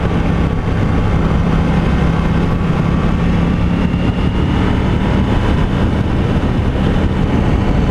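A KTM 790 Duke motorcycle cruising in fourth gear, a loud, steady engine drone blended with heavy wind rush, unbroken throughout with no speech.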